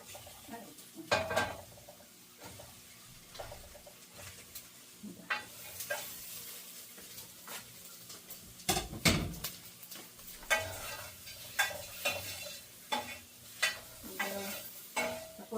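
Shrimp frying with onion in a pan for labong with coconut milk, with a steady sizzle and repeated scrapes and clatter as a utensil stirs against the pan, close up, no talking.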